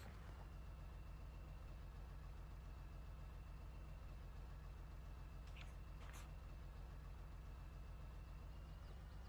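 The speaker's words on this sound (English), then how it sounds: "Now I can hear the tractor." Tractor engine idling in the Farming Simulator 22 video game, a quiet, steady low rumble that continues unchanged throughout with a faint thin hum above it and no talk.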